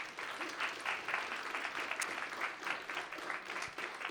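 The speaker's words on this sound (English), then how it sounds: "Please give them a big applause." An audience at a startup competition summit applauds the named guests, with faint, distant clapping that holds steady throughout.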